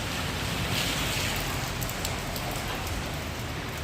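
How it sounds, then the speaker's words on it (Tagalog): Rain falling outdoors in Doha, a steady, close wash of drops on surfaces with no talk. "Umuulan."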